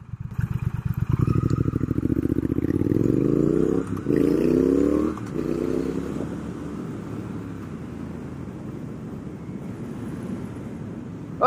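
A 2019 Triumph Speed Twin motorcycle being ridden on city streets, its engine revving and pulsing loudly up close before settling into a steady cruising drone mixed with wind rush.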